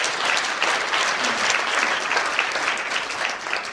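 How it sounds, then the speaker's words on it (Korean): Applause for a pastor in a hotel event hall, a full crowd clapping in a dense, even roar that stays loud and steady throughout, with no speech over it. "이렇게 힘을 주시는 정광훈 목사님에게 우리 큰 박수를 한번 드립니다"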